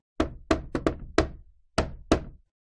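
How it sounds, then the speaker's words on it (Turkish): Sharp knocks on a house door in a children's animated story: five quick raps, a short pause, then two more, close and crisp. "Tam o sırada haftalar, aylar sonra ilk kez evin kapısı çaldı."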